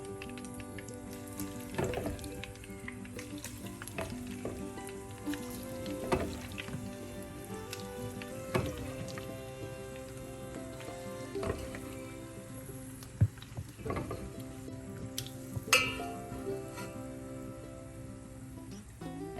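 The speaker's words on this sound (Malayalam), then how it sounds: "ബാക്കി ചിക്കനും നമുക്ക് ഫ്രൈ ചെയ്തെടുക്കാം" Remaining chicken pieces for chilli chicken fry in a pan with a steady crackling sizzle, sharper pops and spatters breaking through now and then, with no talk over it.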